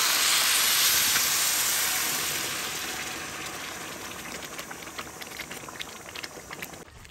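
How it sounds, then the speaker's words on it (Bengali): Water runs into a pot of rice for cooking. A strong, broad rushing hiss starts loud, then eases into a quieter bubbling splash, and no one speaks. "জলটা দিয়ে দিচ্ছি।"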